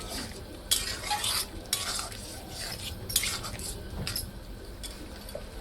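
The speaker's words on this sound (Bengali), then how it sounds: "ভালো করে নেড়ে চেড়ে মিশিয়ে নেব।" Vegetable bhaji is stirred and mixed in a pan, the spoon scraping and clinking against the metal in repeated strokes over a soft background sizzle, close and moderately loud.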